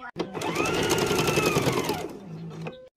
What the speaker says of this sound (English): Sewing on the belt loops.